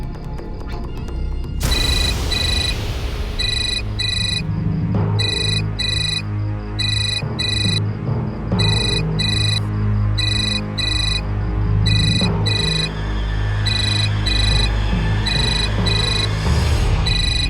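A mobile phone ringtone plays loudly and continuously, a repeating electronic melody of bright beeping notes over a steady musical backing.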